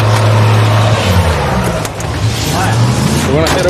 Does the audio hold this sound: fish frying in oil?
no